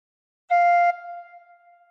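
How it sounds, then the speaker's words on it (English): A single recorder note played with fingers 1 to 4 and 6 covering the holes, one clear steady blow of about half a second that then fades with a soft ringing tail, heard alone. "Put fingers 1 to 4 on holes 1 to 4 and finger 6 on hole 6 and blow once."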